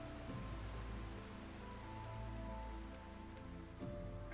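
Rain in an indie game under development, a steady dense patter of raindrops falling on surfaces, continuous and fairly close with no voices.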